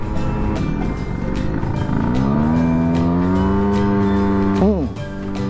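An Aprio scooter with a sport chamber exhaust runs steadily nearby, its droning engine note rising and holding, then blipping briefly before easing off; faint talk may sit underneath.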